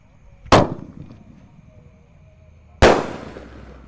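A Langmas firework set off on Takbiran night in Ramadan 2025 bursts twice with sharp, loud booms about two seconds apart, each trailing off, with no talk over them.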